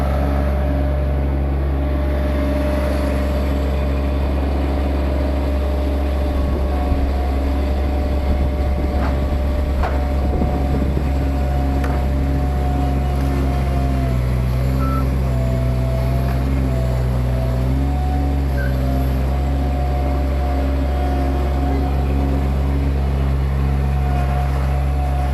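A mini skid steer loader's engine runs steadily at a constant drone while lifting rocks for a dry creek bed, with a loud, even hum and faint clunks from the load partway through.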